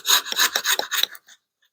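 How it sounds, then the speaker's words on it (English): Sharp chisel paring wood on a garage door jamb, five or six quick close rasping scrapes in a row, then a faint final scrape. "Now I'm going to trim this up with a chisel."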